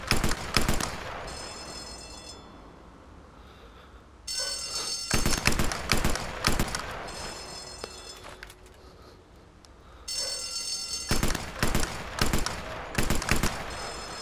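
Shotgun fire in the Sniper Elite VR video game, loud close blasts coming in clustered rapid volleys, each with a sharp crack and ringing tail, separated by quieter stretches of a few seconds.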